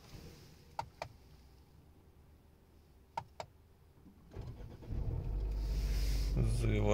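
A Mercedes car engine cranks and catches after a few sharp clicks, then settles into a low, steady idle that grows louder and fills the end.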